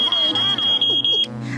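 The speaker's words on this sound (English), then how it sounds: "It's a smoke alarm." Smoke alarm beeping in a steady, loud, high-pitched series of repeated tones over about a second, with low background hum and a faint voice underneath.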